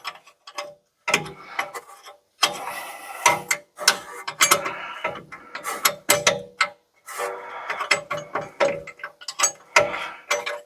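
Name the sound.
spanner turning bolts on Jaguar wheel hub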